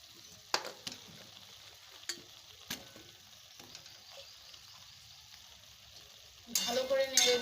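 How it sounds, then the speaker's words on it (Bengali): Pumpkin, potato and lentil bori tossed into spice paste already frying in oil: a faint steady sizzle with a few stirring clicks, then a sudden loud, crackling surge of sizzling near the end. "এবার এর মধ্যে কুমড়ো আলু বড়িগুলো দিয়ে দেবো।"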